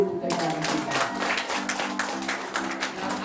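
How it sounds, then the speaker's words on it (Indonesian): Crowd applause at a kindergarten inauguration ceremony in Gorontalo, steady clapping throughout with someone talking over it. "Tepuk tangan dulu TK kita."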